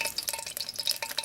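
Oil crackling and sizzling in a mess kit pan on a camp stove outdoors, a quiet steady spitting with small pops and no voices.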